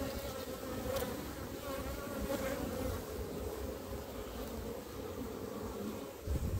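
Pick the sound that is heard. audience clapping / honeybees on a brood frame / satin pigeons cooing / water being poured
honeybees on a brood frame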